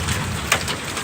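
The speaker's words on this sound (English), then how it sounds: "Still getting a lot of hail." Hail and heavy rain pound down steadily during a tornado storm, a dense, loud hiss with a sharp impact near the middle.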